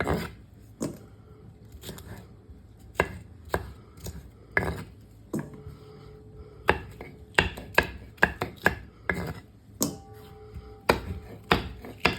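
Knife chopping English cucumber and red onion into bite-sized pieces on a board, irregular close thuds coming in quick bursts with short pauses between, with no voices.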